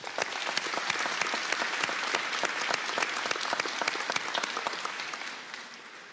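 An audience at a practical nursing graduation ceremony claps for the speakers, steady crowded applause that holds at full strength before tapering slightly at the end.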